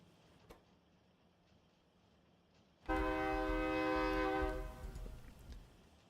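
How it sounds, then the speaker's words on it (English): In the Factorio video game, a train sounds a loud, tonal horn blast and rumbles past, starting abruptly partway through after quiet machinery hum, then fading into lower rolling noise. "That is a very loud train."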